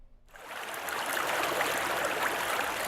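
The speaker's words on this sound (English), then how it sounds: "Bledsoe Creek may sound tranquil." Bledsoe Creek flowing on a calm day, a steady broadband rush of running water that rises in from silence within the first half second and holds at a close, even level.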